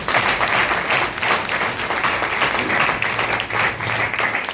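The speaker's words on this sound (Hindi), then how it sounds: "इनके लिए ताली इसलिए बजाई" Audience applause in a hall during a leadership speech, steady crowd clapping with slight swells throughout, no talk over it.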